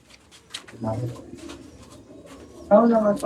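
Madrasi pigeons coo softly in a loft, a few low murmuring calls rising now and then, with a louder burst near the end and someone talking intermittently over them.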